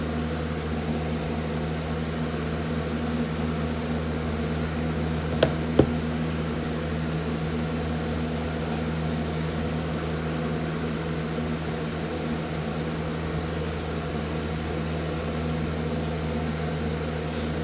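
An electric fan runs steadily in a room, giving a constant low whirring drone with a faint hum throughout. A couple of small clicks break in briefly near the middle, and no one speaks.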